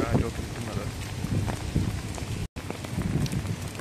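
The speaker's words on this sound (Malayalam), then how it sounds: "നല്ലൊരു തകർപ്പ് മഴയാണ് ഇവിടെ ഭയങ്കരമായിട്ട്" Heavy rain pours at night outdoors with gusty wind, a dense, rough wash of rainfall and rumbling noise throughout, cut by a brief dropout near the end.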